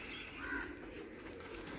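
A large Jonsra pigeon gives a soft, low coo in a faint, continuous murmur over steady background noise, with no talking.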